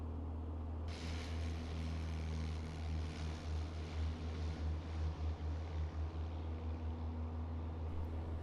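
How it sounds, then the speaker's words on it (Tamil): A small training plane picks up speed along a runway for takeoff, its propeller engine a steady droning hum heard from inside the cabin, holding a constant, moderately loud rumble with a faint pulsing texture. "இப்போ ஃப்ளைட் ஸ்லோவாக பிக்கப் ஆகுது டேக் ஆஃப் பண்ணுறதுக்கு"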